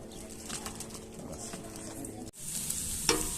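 Onion frying in ghee and sesame oil over an open fire in a tent kitchen, a steady close sizzle with stirring scrapes, briefly dropping out and then returning louder and brighter.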